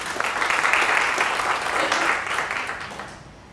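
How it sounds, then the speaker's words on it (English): A crowd claps steadily for a few seconds, a dense wash of applause that slowly fades toward the end. "I think that deserves a round of applause."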